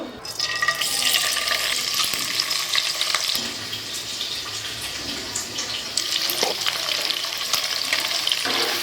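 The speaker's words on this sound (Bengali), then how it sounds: "এদিকে আমার পনির ভাজা হয়ে গেছে আর এদিকে গাজরগুলো ভাজছি" Paneer, then carrots, frying in oil in a pan, a steady close sizzle with occasional stirring and clatter, no talk.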